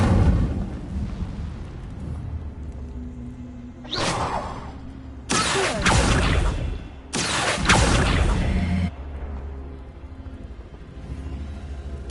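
An Incendio fire spell from the Hogwarts Legacy game erupts in whooshing bursts of flame, several loud roaring blasts over a low rumbling background, with short breaks between them.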